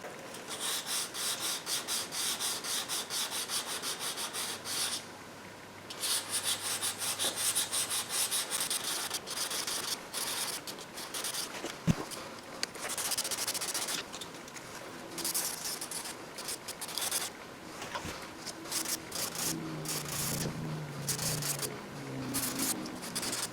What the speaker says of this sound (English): It's going pretty slow and clogging the sandpaper. I'm going to try going wet again.